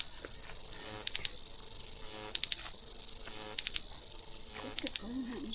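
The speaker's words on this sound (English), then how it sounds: "That one up the top making all the noise." Loud, continuous high-pitched buzzing of cicadas calling up close in native bush in the Hunua Ranges, New Zealand, pulsing in waves that briefly dip about every second or so.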